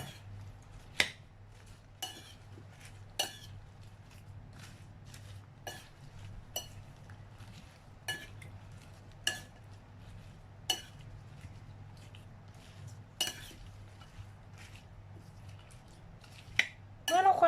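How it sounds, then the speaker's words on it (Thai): A chicken and bok choy stir-fry mixture with seasoning sauce and oyster sauce is tossed in a dish for the microwave. Faint, scattered clinks and taps of a utensil against the dish sound over a low, steady hum. "คลุกเคล้าส่วนผสมทุกอย่างให้เข้ากันค่ะ"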